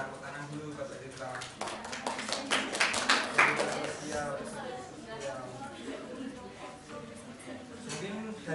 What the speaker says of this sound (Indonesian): Tepuk tangan dulu Mbak Citra.